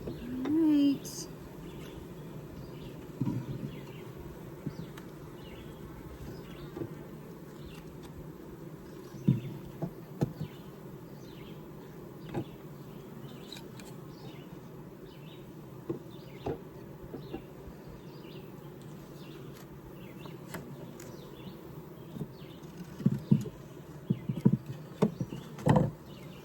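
Honey bees hum and buzz steadily during an inspection of a 20-frame horizontal Layens hive, a low continuous drone with scattered knocks and handling noises of the frames.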